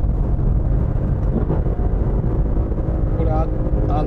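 Loud, steady engine drone and rushing wind noise fill the cabin of a Lexus LC500 or BMW M6 Cabriolet cruising at 180 km/h on a highway.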